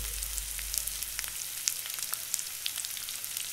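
Ginger, garlic, finely chopped cabbage, carrot and capsicum sautéing over a medium flame, giving a steady soft sizzle with faint crackles and light stirring throughout, with no talking.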